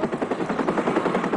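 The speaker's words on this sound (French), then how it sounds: "le ballet des hélicoptères emmenant ceux parmi les plus chanceux ou ayant eu les meilleurs pistons." Helicopter rotors thumping in a rapid, steady rhythm, loud and close, with a dense chopping pulse throughout and no voices.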